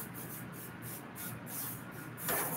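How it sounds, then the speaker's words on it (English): Cooking pan spray misted into a casserole dish in a home kitchen, heard as short hissing bursts in a steady rhythm, close and moderately loud, with a longer spray at the end. "use a little pan spray for your pan, your casserole dish"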